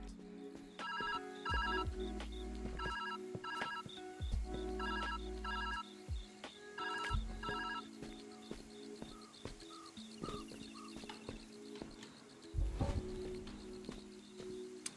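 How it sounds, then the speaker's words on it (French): A telephone in the puzzle video game ViewFinder rings in repeated double bursts with regular pauses, heard over soft game ambience and scattered chirping effects. "Comme dans la vraie vie, je ne réponds pas au téléphone."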